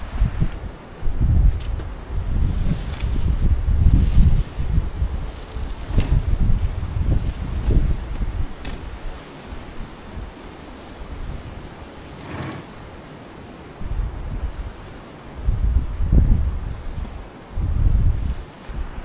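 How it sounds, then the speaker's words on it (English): Strong wind blows down from the Pamir mountains in rural Xinjiang, gusting and buffeting the microphone in a steady, rumbling roar that swells and eases. No one speaks. "the wind is coming straight from the mountains and here I'll be sheltered"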